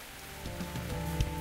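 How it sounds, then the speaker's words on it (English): Steady rain hisses in a video game, a dense, even patter over soft sustained background tones, with no speech. "Of course it had to start raining just before we got here."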